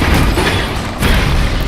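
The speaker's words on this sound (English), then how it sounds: "I forgot about the explosion." A loud, dense rumbling blast from the Into the Breach video game fills the whole moment, steady and thick with a slight surge partway through.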